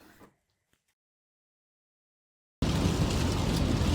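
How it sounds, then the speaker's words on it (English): Heavy rain after a day-long downpour cuts in suddenly following near silence, a loud, dense, steady hiss that continues to the end. "It's been raining all day."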